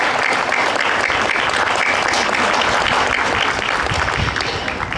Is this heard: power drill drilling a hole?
no